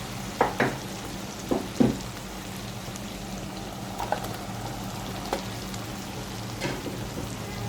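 Fried chicken added to a karahi of hot masala, sizzling steadily with several soft clinks and stirring scrapes near the start and a few more later, close and fairly loud, no talking.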